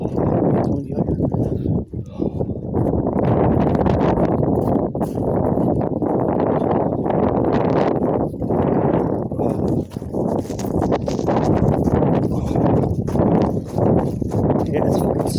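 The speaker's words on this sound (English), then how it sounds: "It's windy out here." Strong wind gusts across a snowy street in Menominee, Michigan after a blizzard, a loud, steady roar buffeting the microphone throughout with brief dips, while someone talks over it.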